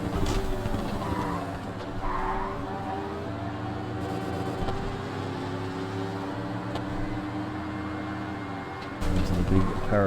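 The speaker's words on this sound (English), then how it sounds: "I can hear my own engine" A race car engine in the 2004 racing game TOCA Race Driver 2, played on Windows 10, drones loudly and steadily, its pitch sweeping up and down through gear changes, with brief tire squeals.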